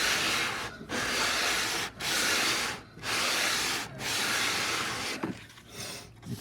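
A guitar fretboard with inlays is sanded by hand, giving loud, close, hissing strokes in a steady back-and-forth rhythm, about six passes with brief gaps between them.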